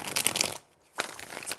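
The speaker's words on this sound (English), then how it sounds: "3 shuffles." Playing cards are shuffled in two quick riffling bursts, the first longer and the second after a brief pause, crisp and close with no voices.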